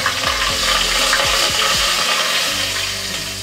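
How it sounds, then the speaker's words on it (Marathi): Whole garam masala and curry leaves sizzle loudly in hot tempering oil, a steady close crackle with a few quick stirs scraping through it. "आता आपण हा अख्खा गरम मसाला घालूया, तो पण चांगला ढवळून घेऊया। कढीपत्ता टाकूया"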